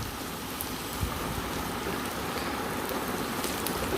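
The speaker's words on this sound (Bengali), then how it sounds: "আরও কিছুক্ষণ ভেজে নেব।" Snake gourd frying in a pan gives a steady, dense hiss of crackling oil, even and unbroken throughout, with scattered faint pops and no talk.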